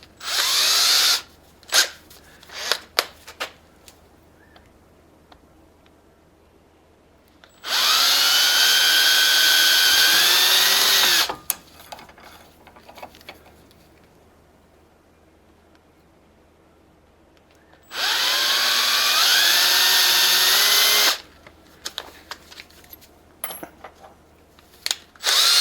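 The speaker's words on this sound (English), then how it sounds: "And we'll start out with the 1/8" pilot drill like we did last time." A handheld power drill with a 1/8 inch pilot bit bores in two separate bursts of several seconds each, close and loud, its whine steady, with quiet handling noises between the runs.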